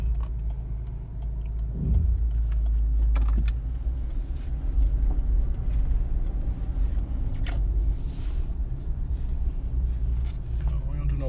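A 2002 Nissan Pathfinder SE on a test drive, its engine a steady low rumble inside the cabin as it shifts gears, with someone talking over the drone throughout and small rattles and clicks now and then.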